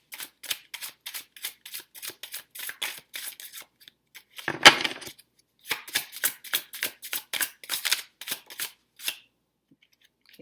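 Tarot cards riffle and shuffle in quick repeated bursts of crisp, close-up card slaps and flutters, with a longer rustling shuffle midway and brief pauses between runs, no voice over them.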